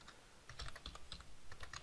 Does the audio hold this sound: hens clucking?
no